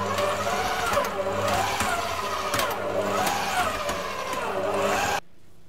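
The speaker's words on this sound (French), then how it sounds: "je pétris à vitesse 2 pendant 2 minutes" A stand mixer kneads pizza dough with olive oil at speed 2, its motor whirring steadily with rhythmic surges before cutting off abruptly near the end.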